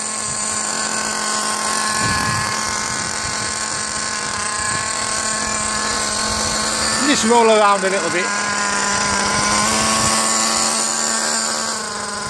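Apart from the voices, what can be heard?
Koysho FW-06 nitro RC car engine revving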